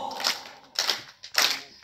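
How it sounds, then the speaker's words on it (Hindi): An audience at a live Punjabi music program claps in time, three loud bursts of rhythmic clapping spaced evenly across the moment, close and dry. "रिदम आप देंगे ताली के साथ"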